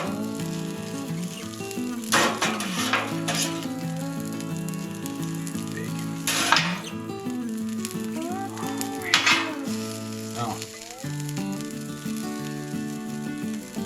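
Bacon sizzles steadily on a Blackstone griddle, with occasional clinks of a metal utensil. Background music plays throughout.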